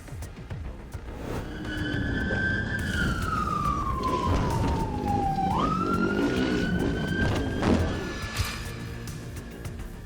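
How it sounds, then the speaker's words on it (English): A police siren wails close by, its pitch sliding slowly down then sweeping back up, over steady traffic and engine noise. "With a quick flash of the lights and sirens"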